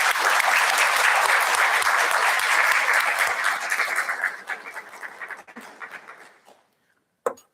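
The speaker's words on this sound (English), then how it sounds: "Let's give her a round of applause." Audience applause at a university liberal arts and communication awards ceremony, honoring a retiring professor: dense, sustained clapping from a large crowd that thins into scattered claps and fades out, with a last brief clap at the end.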